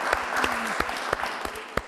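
An audience claps in a short, lively burst of applause, with a few sharp individual claps standing out near the end.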